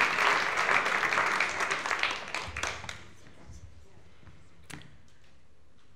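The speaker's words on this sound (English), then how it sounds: "Nicole DeBoom, give her a warm round of applause" Warm audience applause for speaker Nicole DeBoom fills the room, loud and dense for about two and a half seconds before thinning into scattered claps and fading to near quiet.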